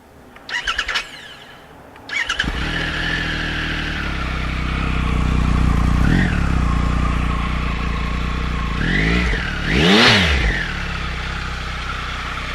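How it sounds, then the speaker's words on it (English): A 2019 Triumph Tiger 1200 XCa motorcycle engine cranks twice, catches and settles into a rumbling idle, then revs up sharply a few times with rising and falling growls. "start the Triumph motorcycle"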